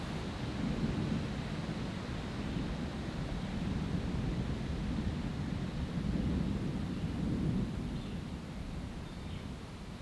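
Distant thunder rolls as a low, broad rumble under steady heavy rain noise, swelling and fading over several seconds without any voices.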